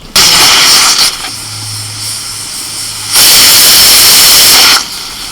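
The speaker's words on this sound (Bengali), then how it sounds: "প্রেসার কুকারের ঢাকনা বন্ধ করে আমি ছটা সিটি মেরে দেবো" A pressure cooker full of mutton with cinnamon, cardamom and cloves vents steam in two loud, close hissing whistle bursts, separated by a quieter stretch with a low steady hum.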